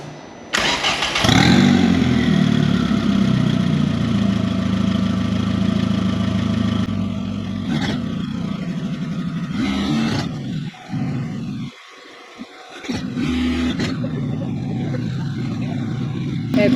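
A 20-valve turbo engine in a VW Caddy idles loud and close, then is revved in a few rising and falling swells with short pauses between them, while a voice speaks briefly over it.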